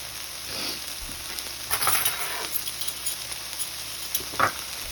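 Meat and vegetables sizzle steadily in a pan over a low hum, with scattered crackles and small clinks from stirring, and no voices.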